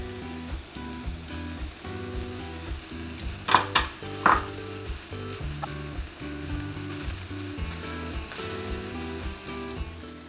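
Vegetables and carrot sizzling and charring in a hot pan, a steady frying hiss with stirring and a couple of sharp clinks of utensil against the pan.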